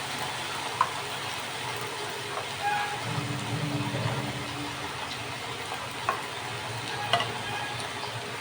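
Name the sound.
paneer chicken frying and being stirred in a pan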